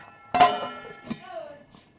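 A metal lid drops onto a cooking pan with a sharp clank, and then a lighter clink and a brief ringing tail follow as it settles, in a quiet kitchen where pointed gourd in poppy seed paste is cooking.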